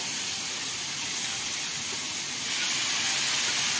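Sago hits a pan of frying capsicum, tomato and grated coconut, producing a loud, steady sizzling hiss that swells slightly toward the end, with no voice heard.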